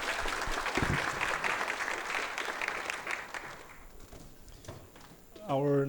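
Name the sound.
audience applause for a speaker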